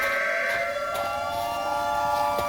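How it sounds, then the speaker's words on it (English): Siren Head's siren in a Minecraft horror story, a sustained droning multi-tone wail that holds steady and slowly bends downward, moderately loud and alone. "Suddenly, a siren interrupted the silence."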